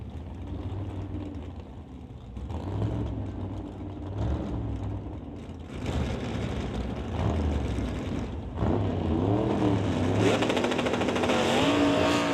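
A Super Shifter class drag racing car launches at a Sunday drag meet, engine roaring and climbing in pitch as the wheels spin. It is loud and sustained, with the noise swelling toward the end.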